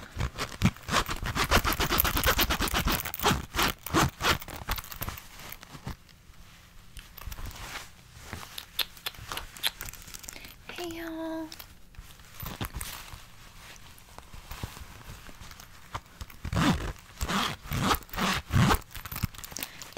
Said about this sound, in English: Zippers, zippers, zippers, zippers, zippers, zippers. Zippers!